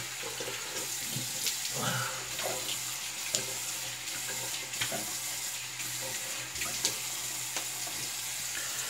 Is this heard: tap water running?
yes